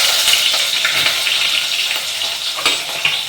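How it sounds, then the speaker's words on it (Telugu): Chopped onions fry in a hot pan for a pulao and potato kurma. A loud, close, continuous crackling sizzle comes with a few light stirring scrapes. "ఇప్పుడు కట్ చేసుకుని ఉల్లిగడ్డ వేస్తున్నా"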